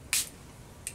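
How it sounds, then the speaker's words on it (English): Jane Iredale makeup fixing spray released in a short soft hiss, followed moments later by a second, briefer puff, both close and quiet against a still room. "And some fixing spray from Jane Iredale."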